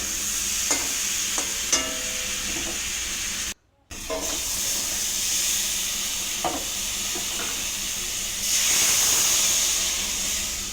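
Spice paste sizzling and frying in a pan, a steady hiss with scattered clicks and taps of stirring, briefly cut off near the middle, then swelling a little louder toward the end.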